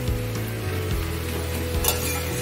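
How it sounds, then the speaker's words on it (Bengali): White leafy greens (shak) frying in a pan at home for lunch, a steady close sizzle with occasional clinks of a utensil against the pan, no talking. "একটু শাক ভাজছি, সাদা শাক,"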